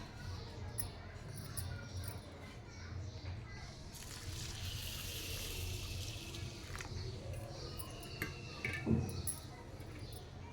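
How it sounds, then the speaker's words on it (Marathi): Water sloshes and trickles as emmer wheat grains are rinsed in hot water in a pot, with soft splashes throughout and a slightly louder splash near the end. "आता हे जोडगहू आहेत ना गरम पाण्याने धुवून घ्यायचे"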